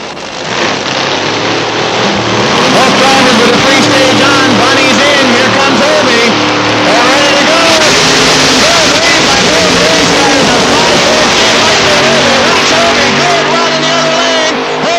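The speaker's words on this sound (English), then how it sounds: "First round funny car action at the Labor Day weekend spectacular." Funny car drag racing at a motorsports park during a Labor Day weekend event in 1992: a loud, sustained engine roar fills the whole stretch, with a track announcer talking over it.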